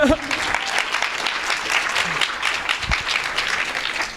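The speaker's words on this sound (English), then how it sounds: "And applause" A conference audience at a hacker event applauds a cryptography talk, sustained clapping from a large crowd that fills the space for several seconds, with a brief voice at the start.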